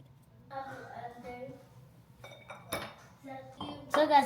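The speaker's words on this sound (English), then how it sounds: "So guys, now I'm going to be mixing." Omelette ingredients, eggs seasoned with salt, being mixed in a bowl for a quick cheesy omelette, with clinks and scrapes of utensil on dish coming in short bursts that grow louder toward the end, under quiet talk.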